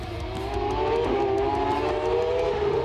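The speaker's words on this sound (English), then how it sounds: "New Zealand circuit racer Andy Duffin, back in the distinctive 3-rotor 20B powered Mazda FD-RX-7." Three-rotor 20B-powered Mazda FD RX-7 race car at a street circuit motorsport festival: a loud, close, high-pitched rotary engine wail with rising pitch, sustained throughout as the car runs hard.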